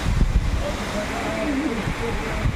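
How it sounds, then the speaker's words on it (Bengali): Strong Cyclone Remal wind roars and buffets the microphone at a rural market during the storm, a steady loud rush with gusty surges. "দেখেন কত জোরে মারতেছে হাওয়া"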